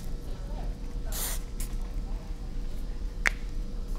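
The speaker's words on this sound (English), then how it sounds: "use a medium hold hairspray to add lift and hold all over" A medium hold hairspray mists onto short hair in one brief hissing burst near the start, followed by a quieter puff, against a low room hum.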